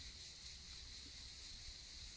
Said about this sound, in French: on entend les cigales derrière